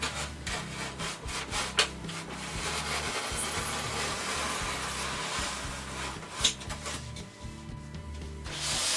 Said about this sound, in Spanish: con el cúter vamos a cortar por allí